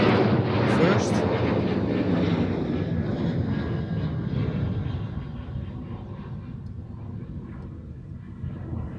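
A four-year-old Boeing 777F cargo jet moves at Amsterdam Schiphol Airport, its engines giving a broad, steady roar that slowly fades as it passes into the distance.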